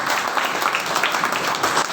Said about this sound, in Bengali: প্লিজ একটু হাততালি দেবেন।